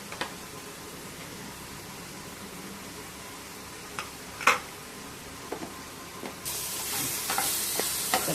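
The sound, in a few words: sautéing onion and tomato in pan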